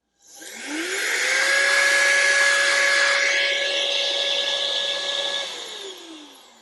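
A rechargeable compressed air duster run on its low setting blows a steady, loud whirring hiss with a high motor whine, spooling up, holding for about five seconds, then winding down, with no talking.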